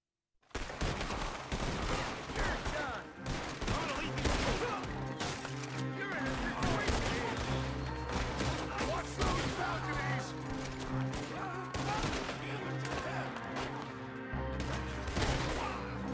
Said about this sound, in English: There's a lot of bullets flying around.